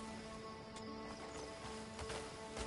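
Horse hooves clip-clop at a steady trot in the game Crimson Desert, faint and continuous under a low backdrop of game ambience, with a few sharper hoof strikes standing out.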